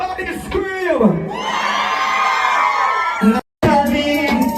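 A live crowd at a stage show screams and cheers loudly and close, with sustained whoops and yells swelling into one roar before a brief cut and a fresh burst of shouting.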